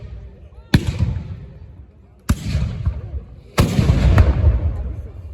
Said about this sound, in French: Et la batterie du Wolfsberg qui fait feu.